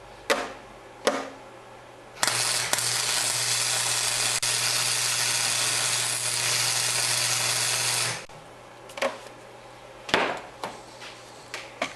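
Tack weld on a fabricated electric-drill ice auger rig: a steady, harsh crackling buzz runs for about six seconds, loud and close, bracketed by short metallic knocks and clanks before and after.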